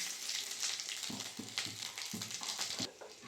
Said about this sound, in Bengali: এই তেলের মধ্যে দিয়ে দেবো শুকনো লঙ্কার 5 ফোড়ন,